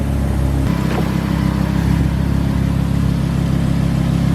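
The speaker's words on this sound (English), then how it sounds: "Actually my first time driving in a Lambo." A Lamborghini supercar engine hums steadily from inside the car while cruising, a loud continuous low drone with no talk over it.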